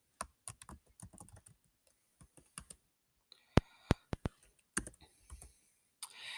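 Typing on a computer keyboard, with close, crisp key clicks in short irregular bursts and a few louder taps, under a quiet voice.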